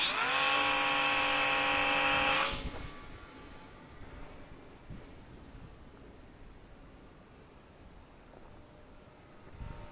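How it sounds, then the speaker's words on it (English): A small Eachine Mini P51D Mustang RC warbird with gyro flies in manual mode, its electric motor letting out a loud, close, high whine for about two seconds before dropping away to faint background noise. "another full manual mode flight with the Eachine Mini P51D using the RadioMaster TX16S transmitter"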